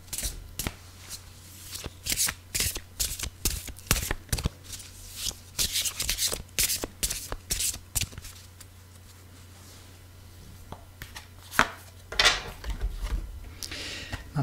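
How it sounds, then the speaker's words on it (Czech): Tarot cards shuffled by hand at a reading table, with repeated crisp riffling bursts and soft slaps coming in irregular clusters, close and fairly loud throughout. "Já si tady už míchám karty jak nahoře, tak dole."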